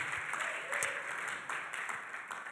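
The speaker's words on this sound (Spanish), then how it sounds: "Podemos darle un aplauso al Señor por eso." A church congregation claps for the Lord, a faint wash of hands with a few sharper claps standing out, heard at a distance and low in level.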